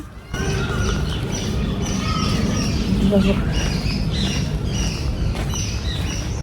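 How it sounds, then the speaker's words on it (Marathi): Repeated peacock calls, loud and shrill, ring out at intervals in the background while people talk nearby, in Jodhpur, Rajasthan. "मोर आहेत ना त्यांचा आवाज येतील पाठीमाग"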